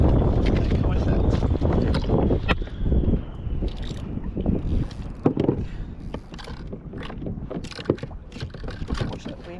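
Wind buffets a microphone at sea beside Clacton pier during kayak fishing, a loud, roaring rumble with gusting swells, mixed with water slaps and knocks against the kayak and voices talking.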